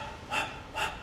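A voice imitating a dog's rapid panting, two quick breathy huffs about half a second apart, close and fairly quiet.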